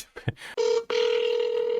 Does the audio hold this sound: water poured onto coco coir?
no